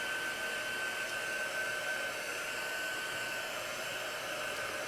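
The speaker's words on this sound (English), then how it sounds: "so we'll just blow dry him a little bit more" A hair dryer blows steadily on chalk paste on a decorated piece, a continuous close whirring hiss with no speech.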